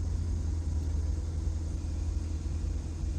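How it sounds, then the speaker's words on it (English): A Subaru hatchback engine idles and rumbles close by as the car pulls up, a steady low drone with no talking. "This car pulling up. Hear that motor? I think that was a Subaru hatchback."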